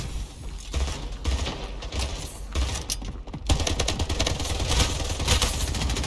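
Dense, rapid gunfire from several weapons in the video game Splitgate, a sustained overlapping barrage of shots at close range, loud and continuous throughout.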